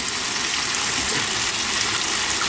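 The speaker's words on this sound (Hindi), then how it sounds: "जग में आपने थोड़ा सा पानी डालना है।" Water is poured steadily into a jug in a home kitchen while beef nihari is being made, a continuous loud splashing gush with no talking.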